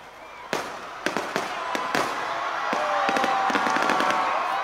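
A grand fireworks display bursts over SM City Baguio after a Christmas tree lighting countdown. Several sharp, loud bangs come at irregular intervals, then dense crackling builds over a steady crowd murmur.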